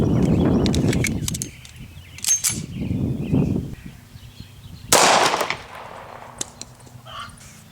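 A .45 ACP Winchester 230-grain hollow point pistol round fired into a red oak door sounds as a sharp report with impact cracks and clatter, followed by quieter handling noises.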